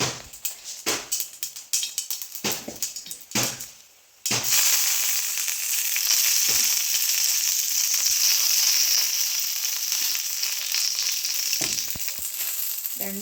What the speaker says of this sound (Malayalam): എണ്ണ ഇട്ടു, കടുക് പൊട്ടിച്ചു, കറിവേപ്പിലിടണം